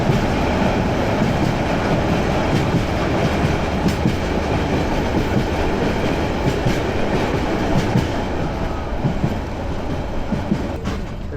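Probal Express passenger train running through hilly country between Bandarban and Cox's Bazar, a steady close rumble with faint clickety-clack of wheels on rails throughout, no voices.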